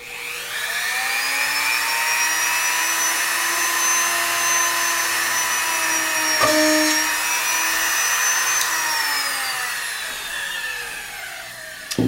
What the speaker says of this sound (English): position that on my wood block and then turn the drill on and go right for that space right